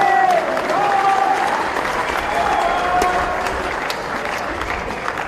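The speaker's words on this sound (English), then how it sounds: "Want everybody to give John a round of applause." Audience at a 2021 Motorcycle Cannonball awards ceremony claps in a steady, dense round of applause with a few whoops, loud at first and slowly easing.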